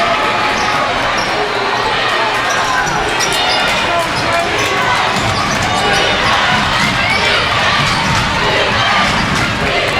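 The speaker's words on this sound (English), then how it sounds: "This crowd chanting defense" A packed high school boys' basketball gym, Kenwood visiting NEHS, fills with a loud, sustained crowd chant and cheering that holds steady throughout, with sneaker and ball noise and a commentator's voice mixed in beneath.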